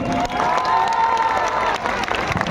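Audience at a live comedy show in Visnagar breaking into applause, a continuous wash of clapping with cheering and crowd noise, loud and close.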